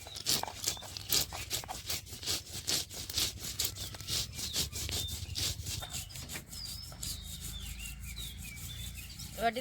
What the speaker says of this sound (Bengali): একসঙ্গে করে এগুলো বেটে নেব।